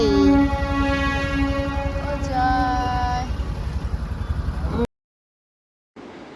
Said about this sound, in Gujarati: તો ટ્રેન આવી જો